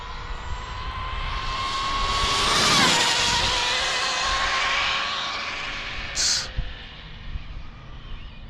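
A 100+ mph Limitless GT RC car on a 1100KV XLX2 setup screams past, its high-pitched whine swelling to a peak mid-pass and fading away, with a brief sharp burst near the end.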